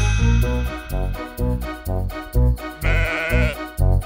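Repeated sheep bleats, loud and close, coming in quick short bursts one after another with brief gaps.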